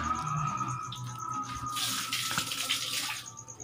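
Water runs steadily from a tap during dishwashing after cooking pancit canton with egg, a continuous close splashing stream with a brighter gush midway, and no voices.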